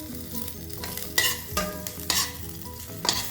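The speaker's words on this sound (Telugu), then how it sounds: "ఆయిల్ కాగిన తర్వాత తిరగమాతని మనం ఇది వేగేద్దాం" Tempering spices with asafoetida crackling in hot oil for tomato roti pachadi, a close, busy sizzle punctuated by several sharp pops and stirring scrapes, with no voices.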